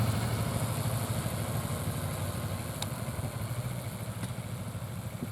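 A motorcycle engine idling at a stop during a riding lesson, a steady low rumble with light mechanical clatter, continuous and fairly close.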